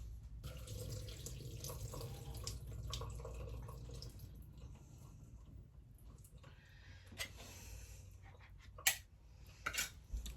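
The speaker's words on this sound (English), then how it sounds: "I think I will drain the corn." Canned corn drained in a kitchen sink, with running water and liquid splashing steadily for several seconds, then a few louder clinks and knocks near the end.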